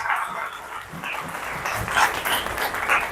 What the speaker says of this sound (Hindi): ताली बजा के बता दो ना अपने लिए।